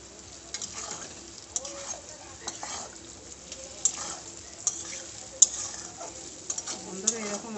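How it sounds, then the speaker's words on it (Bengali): Spices and potatoes fry in a pan for a fish roe curry, with a soft continuous sizzle and repeated scraping and clinking as a spoon stirs them, close by and without talk. "এবারে মশলাটাকে ভালো করে কষিয়ে নেব।"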